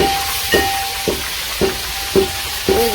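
Potatoes frying in hot oil in a village kitchen, prepared for a curry: a continuous sizzle broken by regular stirring scrapes about every half second, close and fairly loud, with no talking.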